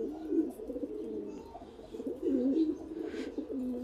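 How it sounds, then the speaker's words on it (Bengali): A pigeon coos close by in soft, rolling, repeated phrases with brief pauses between them, heard alone and fairly quiet. "এই নটটা দেখেন দেওয়ার সাথে সাথে ডাকা শুরু করলো"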